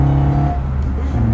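An Alfa Romeo Giulia Super engine gives a short, loud, close burst of throaty, buzzing mechanical sound that eases off within about a second.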